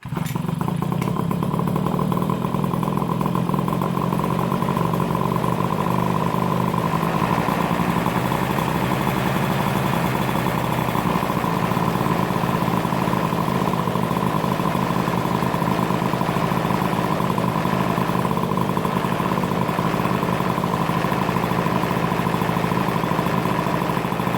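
A small MBK 51 pocket bike engine, cold-started by pull cord with the handlebar choke on, runs steadily with a loud, buzzing, clattering idle close by, with no talking over it.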